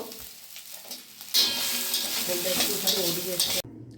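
Soybean chunks fry in ghee, a quiet patch of scraping giving way to a loud, dense sizzle with a spatula stirring through it before it cuts off abruptly.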